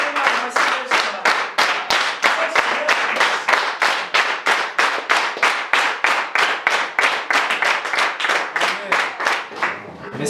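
A church congregation claps in a strong, steady unison rhythm of about three claps per second, loud and close, with voices mixed faintly beneath and a tapering at the end.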